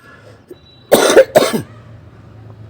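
A man gives two sharp, loud coughs close to the mic, each with a short throat-clearing tail, in a quiet indoor room with no talking.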